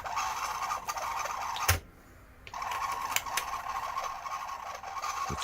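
A repaired Pioneer DC-Z91 cassette deck plays back with a steady, rough, scratchy hiss and warble. The sound drops out briefly after about two seconds, then returns, with occasional sharp clicks throughout.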